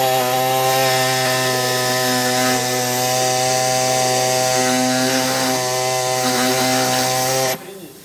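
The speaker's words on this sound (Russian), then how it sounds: "Но я возьму вот такой вот пневмолобзик, вот, который во всех отношениях быстрее это сделает." A pneumatic jigsaw cuts the rubber off a suspension bushing from a Matiz ball-joint control arm, a loud, steady, high-pitched buzzing whine that runs continuously for several seconds before cutting off abruptly.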